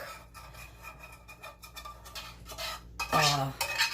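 A utensil scrapes roasted drippings off a pan into gravy, with scratchy, rasping strokes close up, a few quieter scrapes followed by a louder clatter of metal near the end.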